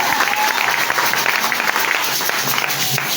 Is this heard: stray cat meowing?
no